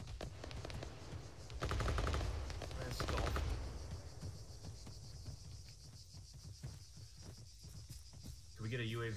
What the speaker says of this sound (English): We're hearing sporadic gunfire from the hills.